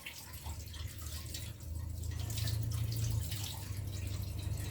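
Dandelions are rinsed under a running tap, with a steady splash of water that grows fuller partway through and plays alone, close by.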